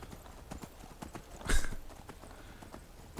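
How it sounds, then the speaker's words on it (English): Horse hooves clip-clop in a steady walking rhythm in the video game Skyrim, crisp, evenly spaced and close, with a louder burst of noise in the middle. "I'm on a horse"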